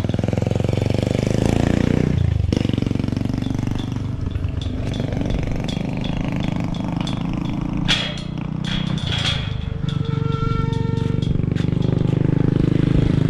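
A small gas-powered grass cutter engine drones steadily nearby throughout, with occasional clanks and brief higher noises over it.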